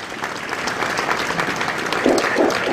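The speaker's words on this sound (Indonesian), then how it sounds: "kepada para hadirin mohon memberikan aplaus" An indoor audience applauds after a joint decree on school uniforms and attributes is signed at a formal ceremony. Steady, moderately loud clapping from a crowd continues without a break.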